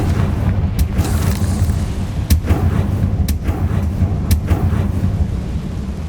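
Confringo blasting spell explosions in Hogwarts Legacy, heavy rumbling booms with several sharp cracking bursts spread over a few seconds, loud and close.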